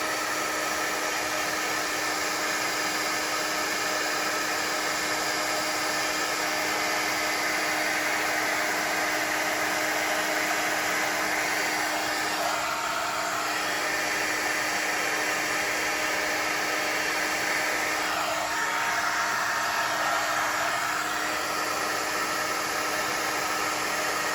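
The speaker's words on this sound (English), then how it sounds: "we're going to go ahead and get the heat embossing tool out, and we're just going to heat it up" Heat embossing tool blowing steadily and loudly throughout, a constant hair-dryer-like roar used to melt silver embossing powder on a snowflake card.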